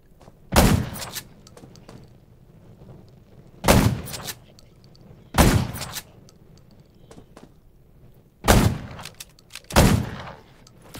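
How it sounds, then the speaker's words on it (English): Gunfire in the zombie survival game Undawn: five loud, sharp shots, some in quick doubled bursts, spaced a couple of seconds apart over quiet background, each with a short echoing tail. "Gunshots will attract more zombies."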